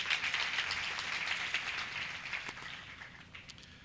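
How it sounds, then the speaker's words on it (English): Audience applause at the Motheo TVET College graduation ceremony in Bloemfontein, a dense patter of many hands clapping that starts strong and gradually fades toward the end. "Please let us clap for Father Mahapi."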